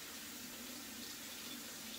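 A tap runs with a steady, close, even rush of water that does not let up, with no voices.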